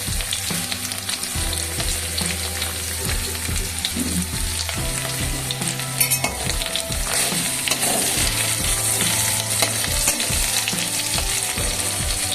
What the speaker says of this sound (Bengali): আলু ফুলকপি একটু ভাজে দিয়ে দিচ্ছি বুঝলে